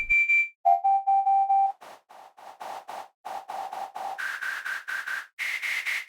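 A Vital synthesizer patch blends a resonant sine tone with white noise: a held pure pitch, then a run of short, rhythmic pulses of tone and hiss that step higher near the end, clear and dry.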